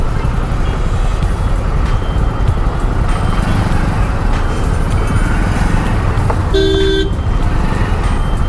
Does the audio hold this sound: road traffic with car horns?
yes